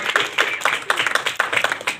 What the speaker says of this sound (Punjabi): ਤਾੜੀਆਂ ਮਾਰੀਏ ਜ਼ੋਰ ਨਾਲ ਯਿਸੂ ਨਾਮ ਵਿੱਚ।